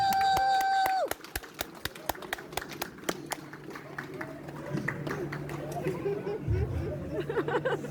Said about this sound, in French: Allez, applaudissez-le pour l'encourager un petit peu.